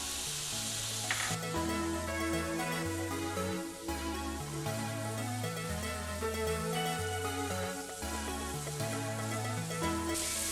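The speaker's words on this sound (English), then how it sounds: "we're gonna let the onions saute for a few minutes" Onions sautéing in a pan give a continuous low sizzle and crackle, mostly buried under loud background music.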